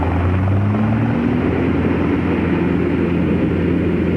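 A small plane's engine idling before takeoff, a loud, steady droning hum with a tonal whine that shifts pitch early on, continuous and close, with no talking over it.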